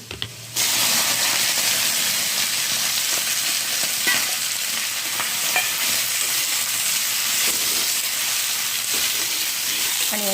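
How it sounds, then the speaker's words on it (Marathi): Garlic and red chilli hit hot oil in a pan, setting off a sudden loud sizzle after a brief quiet start. Dense crackling frying continues close by with occasional scraping stirs. "लसूण आणि लाल मिरची टाकून दिली"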